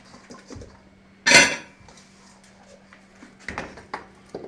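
Sliced peppers tumble into a pot of simmering tomato sauce with carrots for lecho, giving a single loud clattering pour, followed by a few lighter clinks and knocks of utensils against the pot.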